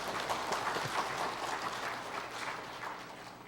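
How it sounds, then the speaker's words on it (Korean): A church congregation applauds the accompanist during a Sunday service, with dense, steady clapping from many hands filling the room at a moderate distance. "반주자를 박수 한번 쳐주십시오."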